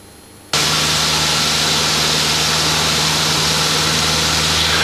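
A light aircraft engine runs at full takeoff power, starting abruptly and then holding a loud, steady roar with a constant low hum throughout, close to the microphone and with no talking.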